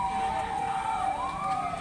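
A fire truck siren wails continuously while responding to a fire at a row of market stalls in North Caloocan, steady and fairly loud with a rising sweep, over rumbling street noise.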